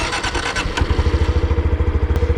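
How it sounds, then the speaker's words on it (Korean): A Honda Super Cub motorcycle engine idles up close, settling after some initial clatter into a loud, even, rapid putter of regular exhaust pulses. "와, 엔진 소리가 잔잔하다."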